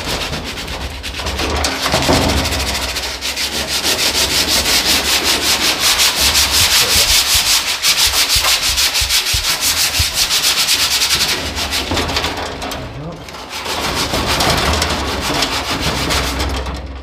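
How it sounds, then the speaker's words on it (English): Steady, loud abrasive rubbing as undercoat is sanded off a corner of a Mustang car body, continuous back-and-forth scraping with a brief pause near the end before resuming. "We're gonna sand a little bit here in this corner."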